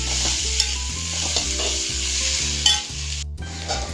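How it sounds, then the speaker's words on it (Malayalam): Curry ingredients for a clam curry sauté in a pan toward golden brown, with constant sizzling and rhythmic scraping and stirring strokes of a spoon against the pan, close and alone. "ഇനി ഇത് ചെറിയ ഗോൾഡൻ ബ്രൗൺ ആകുന്നിടം വരെ വഴറ്റിയെടുക്കുക."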